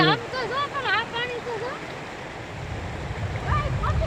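Floodwater rushes down a swollen river after heavy rain, a broad steady roar with people talking over it at the start and again near the end.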